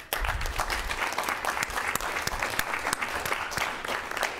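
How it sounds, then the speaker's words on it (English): A room of people applauding at a university student government meeting, with brisk, continuous clapping and crisp individual claps standing out near the listener throughout. "let's please all give a round of applause to Vice President Weber and the Finance Comm"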